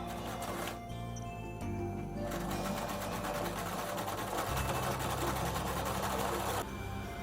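Sewing machine stitching along dress straps, a fast, even mechanical whirr heard up close in several bursts with brief pauses between runs.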